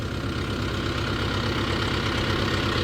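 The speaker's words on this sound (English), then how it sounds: "So here's your engine coming to life." A 2016 Bandit 200UC wood chipper's small engine idles steadily after starting, with a low, even rumble and a rapid chugging pulse, running alone at close range.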